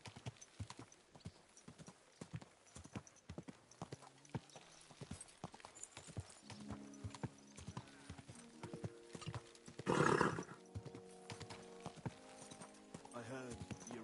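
Rapid clip-clopping horse hooves in the video game Kingdom Come: Deliverance II run steadily throughout, joined by a whinny near the middle, with voices talking intermittently over the trotting.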